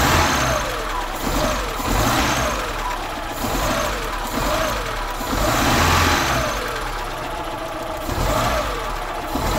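A car engine runs steadily after its corroded battery terminals were cleaned with hot water, a mid-pitched continuous hum with mild swells, close and moderately loud, with no talk over it.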